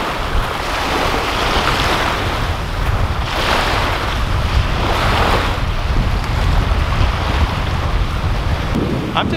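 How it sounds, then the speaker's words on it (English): Waves wash continuously on a desert lake in wide open country, a broad steady surf roar mixed with wind buffeting the microphone, with no talking. "Look at these waves here too."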